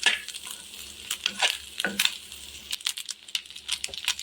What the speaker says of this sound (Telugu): కారం కూడా కొంచెం ఫ్రై అవ్వాలి